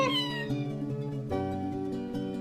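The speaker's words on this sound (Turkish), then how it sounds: "Aa kedi geldi." A cartoon cat meows in a Hazel baby bathroom-cleaning video game, one drawn-out, falling cry at the start followed by softer game sounds and music that carry on behind it.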